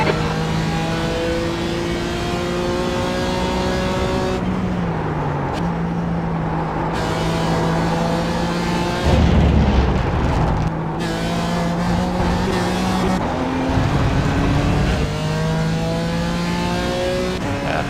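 A GT4 race car in iRacing at Road Atlanta drones loudly with rising and falling engine pitch, shifting gears while another car's engine swells close alongside and then fades.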